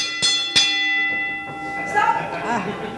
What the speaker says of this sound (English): Also, I have my bell.